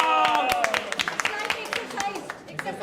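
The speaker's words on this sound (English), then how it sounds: "Clap for Ashok sir." Classroom audience clapping during an English tongue-twister practice session, a burst of scattered, uneven hand claps with voices talking over them throughout.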